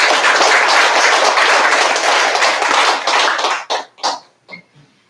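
Audience applause at a church commemorative ceremony, loud and dense from a large crowd, then thinning into a few scattered final claps that fade away.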